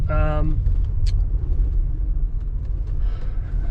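A car drives along a road, a steady low rumble of engine and tyre noise throughout, with a brief electronic tone at the start and a faint high click partway through.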